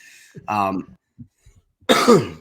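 Two harsh, close coughs into a Yeti microphone, one short and one longer and raspier, separated by a quiet gap with faint small noises.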